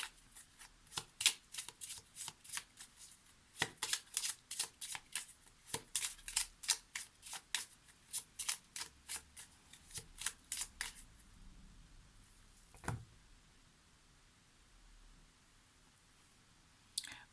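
Lenormand oracle cards being shuffled by hand: a fast run of crisp riffling flicks for about eleven seconds, then a lone snap and quiet room tone, with no talking.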